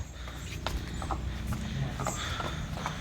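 A very tall buffalo on a dairy farm in Sultanpur village is led out walking. Its hooves clop in a slow, uneven rhythm over a steady background murmur, and a voice is faintly present.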